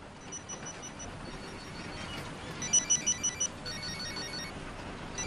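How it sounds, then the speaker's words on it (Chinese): An office telephone rings during a business meeting in a television drama, a short repeated electronic ring standing out over low room noise. "不好意思，我接下电话"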